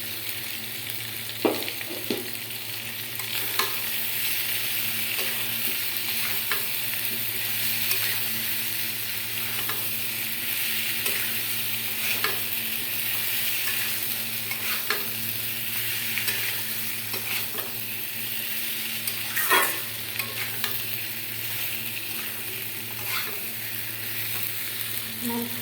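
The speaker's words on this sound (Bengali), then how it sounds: "আমি এবার বাকি আলু মাছগুলো সব কিছু একবারে দিয়ে আমি আর একটু কষাইয়ে নেব।" Potatoes and fish sauté together in hot spiced oil, giving a steady close sizzle throughout, broken by occasional sharp clicks and scrapes of a stirring spoon against the pan.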